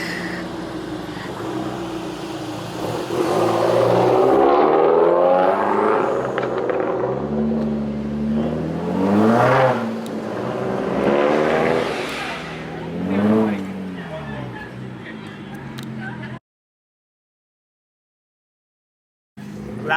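A Genesis car revs hard with loud, throaty engine surges and sharp backfire pops, heard close up with voices mixed in, then cutting to a brief silence before the sound returns.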